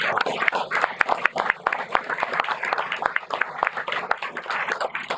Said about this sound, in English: a big round of applause to them also